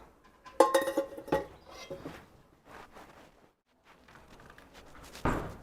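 Pots and utensils being scrubbed in a home kitchen give off scattered clanks and clinks, a few sharp metallic knocks standing out between quieter rattles and pauses.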